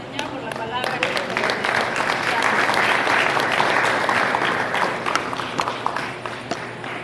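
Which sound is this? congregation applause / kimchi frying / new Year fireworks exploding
congregation applause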